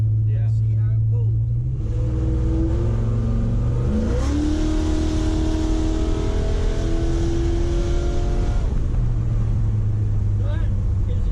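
A Ford F100 with a Holley carburetor accelerates in high gear from about 25 mph, its engine droning loudly from inside the cab as the pitch climbs steadily and smoothly.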